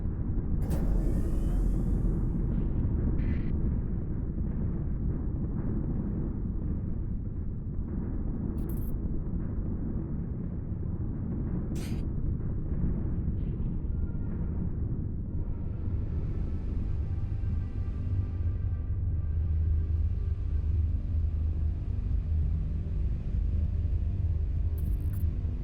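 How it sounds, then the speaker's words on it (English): A storm in the space game Starsector gives a continuous low rumbling drone that holds steady for about twenty-five seconds, with a few faint high clicks and no voices. "Storm as well."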